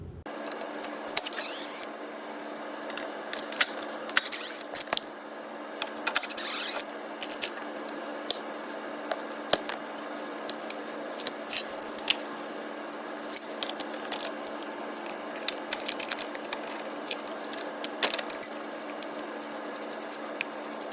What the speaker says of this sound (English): use a 17mm wrench to loosen the tie rod jam nut